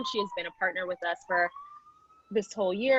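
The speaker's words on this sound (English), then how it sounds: "Sorry for the sirens." A siren wails faintly in the distance as it passes outside, a thin steady tone that slowly rises in pitch, partly under someone speaking and briefly heard alone between her phrases.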